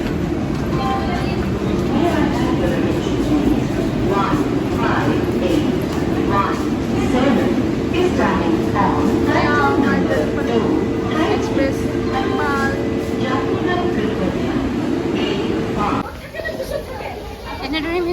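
At a railway station at night, a train rumbles and rolls steadily while crowd chatter and nearby voices carry over the noise, with people talking throughout.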